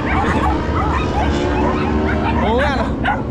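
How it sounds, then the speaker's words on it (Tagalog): Several dogs bark, yip and whimper close by on a roadside during a coffee ride, loud and overlapping against steady road and engine noise, with people talking briefly. "Yan, dami aso."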